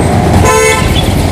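Evening road traffic met while riding a motorbike in India: a car horn toots briefly over steady engine and wind roar, close and loud.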